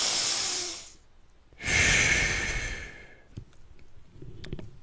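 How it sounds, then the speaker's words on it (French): A person breathes in and out slowly and audibly, one long airy breath followed after a pause by another, close to the microphone, then softer faint breathing and small clicks. "ça serait essentiellement inspiration, expiration"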